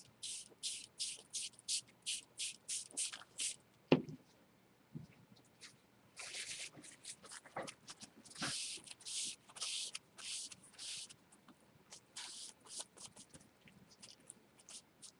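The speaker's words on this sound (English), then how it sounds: "we're going to spray the one of the large ATCs with the summer sky" Colored bloom spray from an aerosol can is applied to a large wooden ATC in a run of short hissing bursts, each about a second long, with a pause midway and a few soft handling noises, close and fairly quiet.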